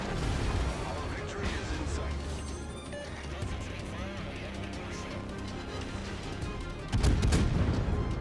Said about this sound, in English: And here comes some AP shells.